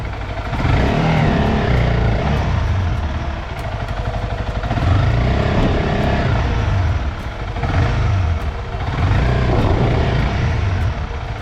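A Honda CRF300 Rally motorcycle's engine revs hard and steadily while the clutch is slipped on a rough track, its loud buzzing drone surging in several waves with no talk over it.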